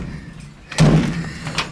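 A 1967 VW Bus door shut once with a solid thump after a brief quiet moment, close by, followed by a faint trailing rattle.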